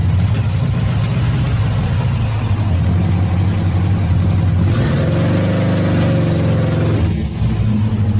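A Saab car engine running after 30 years stored in a garage, a loud steady idle close by that rises briefly into a rev partway through, with no talking.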